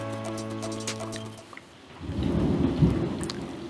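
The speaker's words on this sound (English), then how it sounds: "There's a thunderstorm." A low rumble of thunder swells and rolls on for a couple of seconds amid steady rain, following a brief hum, with raindrops pattering throughout.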